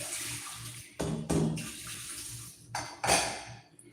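Water runs from a kitchen tap while cooking, a steady hiss broken by a few louder bursts of gushing and splashing into a sink, fairly close.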